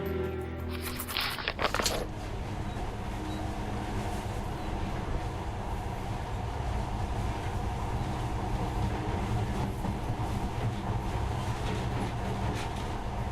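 Monorail ride in the video game Metro: Last Light, a steady low rumbling drone with rhythmic clatter, continuous throughout after a brief louder mechanical burst at the start.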